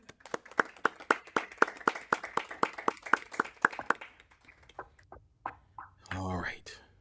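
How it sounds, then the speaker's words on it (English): At a school board meeting after a motion carries, a small group gives a short round of sparse, distinct claps that taper off, followed by a voice speaking. "That deserves a round of applause"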